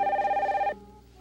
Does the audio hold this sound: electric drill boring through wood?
no